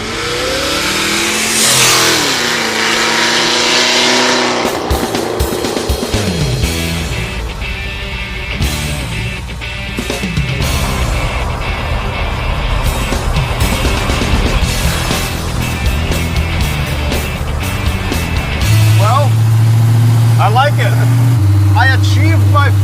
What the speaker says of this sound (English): Fires right up, drives smooth, idles like a kitten.